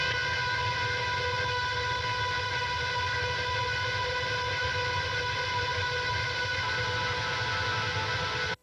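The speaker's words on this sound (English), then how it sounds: "Infinite Reverse, which does this infinite sort of delay sound" Guitar run through an Infinite Reverse preset, an endless self-sustaining delay that becomes a dense, droning wall of layered tones, constant and loud, with no voices, before stopping abruptly at the end.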